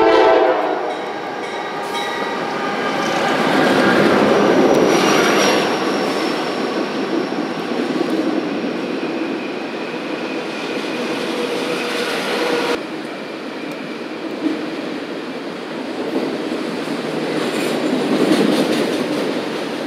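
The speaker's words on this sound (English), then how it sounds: "Got a stalled out train down there." A stalled Norfolk Southern freight train, NS 63V, sits below the Cassandra overlook, its rumbling engines and a long horn-like tone carrying steadily from a distance, with a break partway through and no speech.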